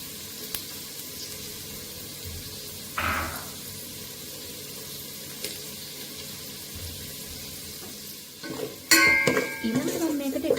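Pasta sauce frying in a pan as curry leaves go in, a faint sizzle under kitchen noise, with a brief scrape near the start and louder stirring and clattering of utensils against the pan at the end.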